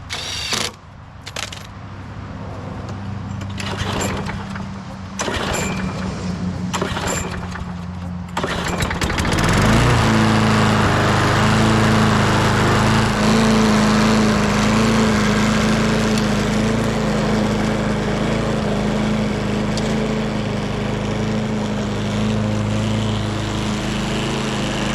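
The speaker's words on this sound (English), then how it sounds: "I do want to hear how this runs with an air filter on it" A lawn mower engine with its air filter fitted, heard after a start at about nine seconds as a loud, steady, rough-running drone that carries through to the end; the opening seconds are quieter with scattered clunks.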